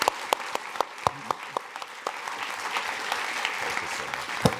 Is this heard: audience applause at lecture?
yes